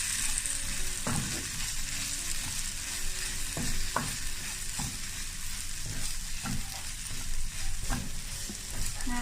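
A spatula scrapes and taps against a frying pan at irregular intervals over a constant, hissing sizzle as egg rice is stirred and fried.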